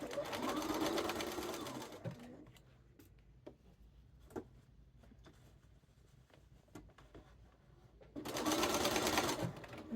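A sewing machine stitches cuffed sleeves in two loud, fast bursts of buzzing at the start and end, separated by quiet handling, clicks and taps of fabric between runs.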